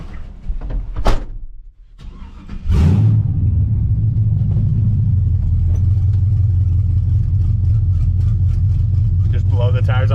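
A mid-engine 1963 Corvair 95 fitted with an LS V8 fires up after a brief crank and settles into a loud, steady, deep rumbling idle, with a short voice heard at the start.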